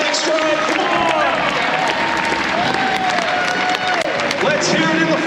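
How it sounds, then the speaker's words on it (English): A crowd on the back straight of a race track applauds in a dense, continuous wash of clapping and cheering, loud and close, while an announcer talks over it. "Let's hear a big round of applause in the back straight."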